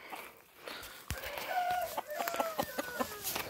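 Gamefowl roosters and hens in a coop cluck and call close by, with a drawn-out rooster crow and short squawks over a rustling background; no one speaks.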